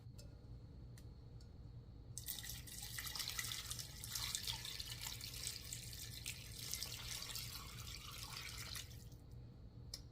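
A kitchen tap runs water into a container for chicken bone broth, a steady rushing stream for several seconds between quiet moments with faint ticking.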